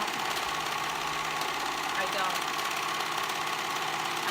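Sewing machine seaming sweater pieces right sides together at the cuff, a steady continuous mechanical whir running throughout with a voice talking over it.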